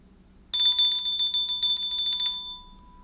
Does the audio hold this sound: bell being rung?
yes